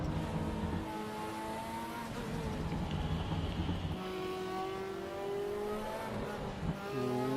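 A Porsche or Ferrari F40 race car engine revs hard through the gears at Brands Hatch or the Nordschleife in a racing video game, a continuous loud rising whine with clear gear-change drops and tire noise underneath.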